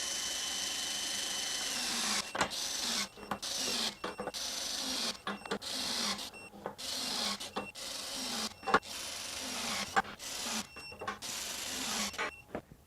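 A 24V Kobalt KWC 5024B-03 half-inch compact impact wrench torquing ten lug nuts to 200 foot-pounds, heard up close as a steady series of loud hammering bursts broken by short pauses between each nut, with no talking.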